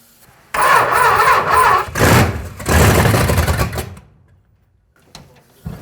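A 1940 big block V8 swapped into a Suzuki Samurai cranks and fires, loud churning bursts with brief gaps, then stumbles and dies to near silence before a few faint knocks.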